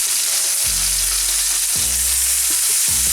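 Worcestershire sauce hitting hamburger patties frying on a hot pan or griddle, a loud continuous sizzle with a few low thuds and scrapes spaced through it, nearby and without speech.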